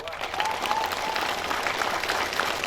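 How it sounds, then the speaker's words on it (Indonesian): A church congregation applauds the builders at the inauguration of a new church building, a short burst of dense, even clapping throughout. "Tepuk tangan untuk kalian."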